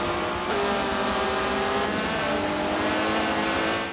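A race car in the Forza video game drives hard through a turn, its engine a loud, continuous high-revving drone that shifts pitch as it accelerates, with faint tire noise and no talk.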